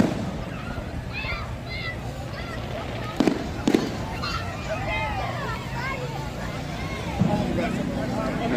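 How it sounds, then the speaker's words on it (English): Fireworks burst at a hot summer night festival in Batavia, Ohio for America's 250th celebration, with a few sharp distant bangs and crackles over a steady hubbub of crowd chatter and nearby voices. "Still enjoying the fireworks."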